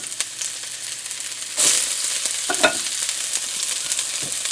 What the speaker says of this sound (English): Let's test the oil. Oh, it's ready. Hear that sizzle?